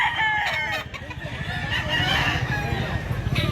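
Nearby roosters crow and cluck among a flock of chickens in Mantalongon, Barili, Cebu, with overlapping calls and busy farmyard background noise.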